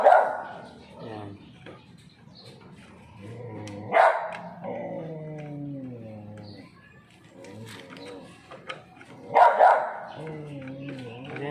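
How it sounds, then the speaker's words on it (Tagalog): A small dog barks and yaps in sharp bursts near a Raider 150 motorcycle being worked on for a tail light change, with someone talking throughout between the barks. "Pasensya na po kayo sa asong makulit"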